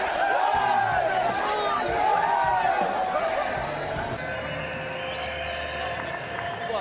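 Stadium crowd at a football match roaring and cheering after a Sunil Chhetri goal, a dense sustained wall of voices with a commentator talking over it throughout.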